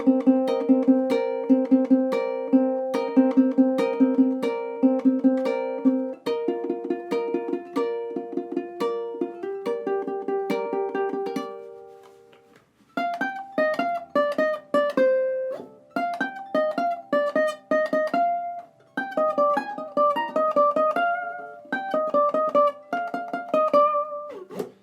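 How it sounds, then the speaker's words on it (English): A ukulele plays a song, with fingerpicked chords in the opening half and a bright plucked lead line later, close and clear, with no singing or talk. "playing them both together, the finger picking and the lead, would sound like this."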